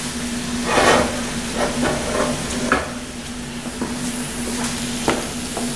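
Onions sizzle and hiss steadily while sauteing in a pan, broken by a few scraping stirs and light clinks against the pan.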